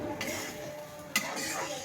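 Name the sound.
stirring spice paste in a pan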